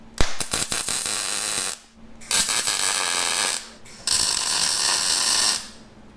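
Steel bracket being tack welded onto an off-road wrecker frame, with three bursts of loud crackling, buzzing arc welding separated by short pauses and a few sharp clicks at the start.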